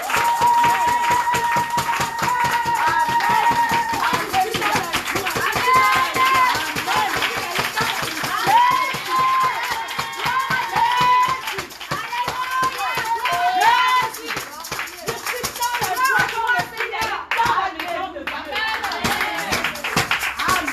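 A church congregation stands and claps steadily for about twenty seconds, dense rhythmic applause filling the room while a voice carries on over it.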